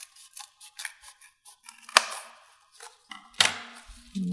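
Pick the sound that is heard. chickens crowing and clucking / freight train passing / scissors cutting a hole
scissors cutting a hole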